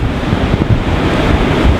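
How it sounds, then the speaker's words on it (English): Gusty wind buffeting the microphone over a low, rolling roar of waves crashing against a sea wall at Blackpool. "It's getting very windy and blustery, and on this wall here it crashes in"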